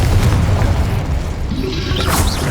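A magical spell explosion from the Hogwarts Legacy video game erupts as a loud, dense boom with rumbling low end, fading into crackling debris and a rising whoosh.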